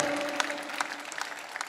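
Audience clapping at a Hindi poetry recitation on black money, a fairly sparse, uneven patter of hand claps that thins out toward the end, heard at moderate distance without speech.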